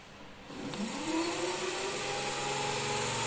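A DC series motor on a field test spins up from quiet, its whine rising in pitch over the first second and then holding a steady, moderately faint hum with no talking.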